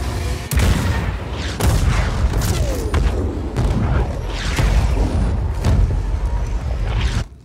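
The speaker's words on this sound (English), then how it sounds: "Engage all artillery towers." Artillery towers fire in Just Cause 4, a string of heavy booms and thuds landing every second or so over a dense, continuous rumble of battle noise, loud and close.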